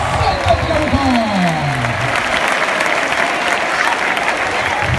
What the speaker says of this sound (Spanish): Palmas, palmas, palmas, palmas, palmas